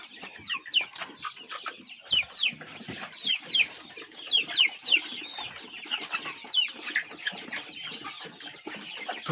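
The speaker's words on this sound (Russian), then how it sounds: "Тут курочки и вот три недоноска петушка." Young hens and juvenile roosters of mixed breeds, including Pushkin chickens, cluck and chirp continuously in a busy, overlapping chorus, close by and moderately loud.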